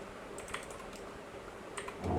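A few soft keystrokes as Python code is typed on a computer keyboard, light scattered clicks over a steady background hiss, faint and brief, with no speech.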